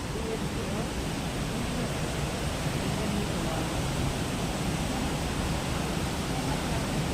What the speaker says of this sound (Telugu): ఇక్కడ వాటర్ ఫాల్స్.